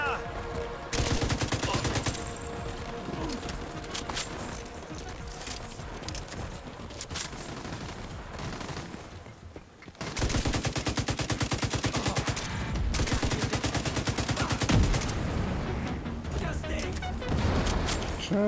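Rapid automatic gunfire from the video game The Division 2 rattles in long sustained bursts with short pauses, loud and dense, while someone talks over it.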